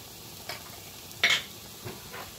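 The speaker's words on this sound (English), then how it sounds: "Add all your veggies and let them saute a while." Vegetables for a minestrone soup sauté in a pan with a soft, even sizzle, broken by a few quiet stirring scrapes and taps.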